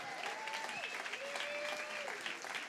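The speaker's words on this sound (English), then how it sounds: "Give them a round of applause" Studio audience applause at a marriage match game show, a brisk, continuous round of clapping with a tonal whistle-like whoop drifting over it and faint voices underneath.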